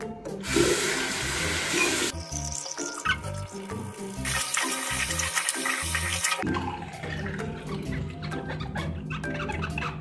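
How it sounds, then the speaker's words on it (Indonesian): Teeth are brushed at a bathroom sink while the tap runs, giving a steady hiss of flowing water that keeps up throughout, with breaks and shifts as the stream changes. No voices are heard. "sekarang waktunya sikat gigi"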